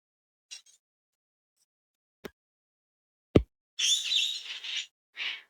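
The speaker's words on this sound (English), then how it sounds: "So you can probably hear some gangangs in the background and a bunch of lorikeets." Gang-gang cockatoos and lorikeets calling in an urban bush area: a few scattered short chirps and clicks, then a longer burst of harsh, scratchy screeching calls followed by one more shorter squawk, moderately near, with no talking.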